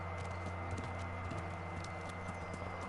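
Hooves clip-clop steadily in the medieval game Kingdom Come: Deliverance, a horse moving at a quick even gait with a continuous drone of ambient noise beneath and no talk.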